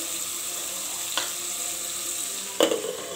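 Chopped tomatoes frying in a pan for a chicken curry, a steady hiss of sizzling oil with a couple of brief spatula scrapes as they are stirred around, no voices.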